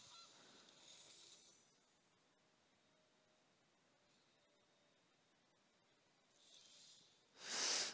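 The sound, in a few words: goose honking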